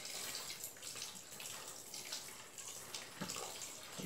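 About a liter of hot water poured slowly for homemade soap bars made with alcohol, vinegar and oil, a steady close splashing and trickling stream throughout.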